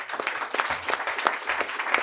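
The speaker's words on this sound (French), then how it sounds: "Est-ce qu'on peut l'applaudir?" Applause from a church congregation during a sermon, brisk crowd clapping with slightly uneven rhythmic bursts, fairly close and lively for a couple of seconds.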